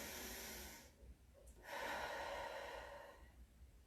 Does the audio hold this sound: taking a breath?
yes